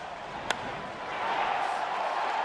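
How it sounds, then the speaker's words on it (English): A baseball crowd at a Boston at Pittsburgh game roars in a broad, steady swell that builds and holds after a sharp crack of the bat on a knuckleball, the cheering loud and continuous from a distance. "you could hear the crowd react as soon as it left the bat"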